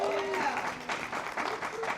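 Comedy show audience clapping, a steady wash of applause from a crowd for about two seconds with some voices mixed in.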